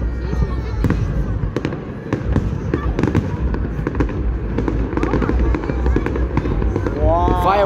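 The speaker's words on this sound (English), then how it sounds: "Fireworks spam." A public fireworks display in Runcorn and Widnes crackles and booms continuously, with dense overlapping bangs at a distance while people talk and react close by.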